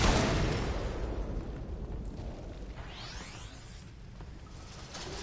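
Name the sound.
explosion in the video game Warframe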